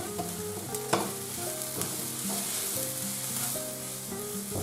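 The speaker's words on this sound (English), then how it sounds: "Get that crushed garlic in there, cook it for about another 2 or 3 minutes." Crushed garlic frying in a pan for beef stroganoff, a steady close sizzle with occasional stirring scrapes, under a background of soft music and no talk.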